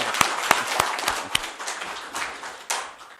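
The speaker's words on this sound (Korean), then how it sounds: "다시 한번 우리 네 분들께 큰 박수로 위로의 말씀 해 주시기 바랍니다" Applause from members closing a Cheongju city council construction committee meeting, a brief ragged burst of hand claps with a few sharp individual claps standing out before it thins and trails off.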